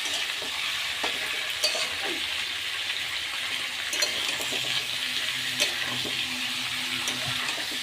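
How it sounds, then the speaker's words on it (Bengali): Meat fries in oil alongside onion, tomato, green chili and potato, giving a constant sizzling hiss with scattered crackles and occasional spoon-against-pan knocks from stirring. "মাংসটা কিন্তু আমি দিয়ে একটু ভেজে নিচ্ছি"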